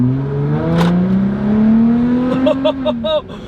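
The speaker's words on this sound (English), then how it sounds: "that exhaust sounds so good" A Jeep Gladiator with a Borla exhaust revs up with a rising, rumbling exhaust note, then stutters in quick pulses as the throttle blips and drops off.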